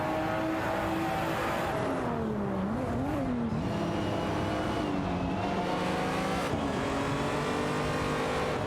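Engines of a Lamborghini Murcielago SV and a BMW 3.0 CSL Homage race in a video game, with steady loud engine drone and shifting revs that rise and fall.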